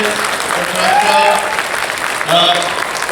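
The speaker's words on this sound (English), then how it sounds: "Round of applause for James Farr," A fan expo crowd at a M*A*S*H cast reunion panel in Dallas gives the guests a hearty round of applause, continuous clapping with a voice speaking over it and some cheering rising near the end.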